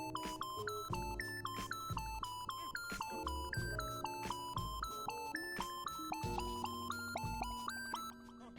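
Synth melody pattern from the Purity plugin in FL Studio, a bright bell-like sequence of stepping notes over punchy low bass hits, steady rhythmic beat-making loop that fades at the end.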